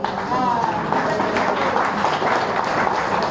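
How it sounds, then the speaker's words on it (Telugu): Audience clapping at a retirement function for bus corporation employees, a steady wash of applause mixed with talking voices throughout. "వాళ్ళు అందించిన సేవలను ఒకసారి మనం గుర్తించి గట్టిగా చప్పట్లతో వాళ్ళని"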